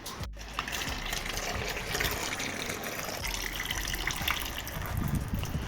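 Engine oil from a 2021 Kia Picanto drains into an oil pan with a continuous splashing, gushing pour that stays close and steady throughout.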